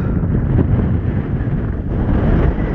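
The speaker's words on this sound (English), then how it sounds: "We got 40-mile-an-hour winds up here." Strong wind of about 40 miles per hour roars steadily across a hilltop at Craters of the Moon, buffeting the microphone with loud, continuous low rumbling gusts and no voices.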